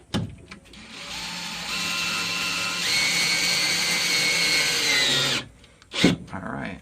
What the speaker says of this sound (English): I want you all to witness this last screw being put in.